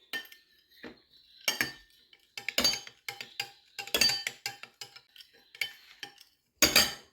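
A spoon stirs yogurt into milk in a bowl, making repeated bright metallic clinks and scrapes in irregular bursts, close and clear, with short quiet gaps between them.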